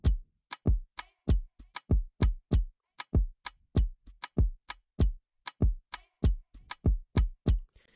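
An Afrobeat drum loop programmed in FL Studio, a kick layered with a top percussion loop for an Afrobeat-style beat, plays as a steady, syncopated run of punchy, booming hits, loud and close, with no voices.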